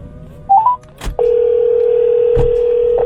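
A car's voice-command system dials a call: a short run of rising tones, a click, then a steady ringback tone holding on, interrupted by a couple of brief clicks.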